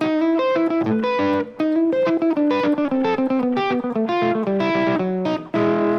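An electric guitar plays a quick, yodel-like run of notes that leap up and down in pitch, steady and continuous, close and fairly loud.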